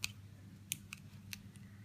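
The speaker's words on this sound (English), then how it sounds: "Nice sharp scissors." Sharp scissors snip nail wrap film in a few quiet, brief cuts, close by, against a low steady hum with no talking.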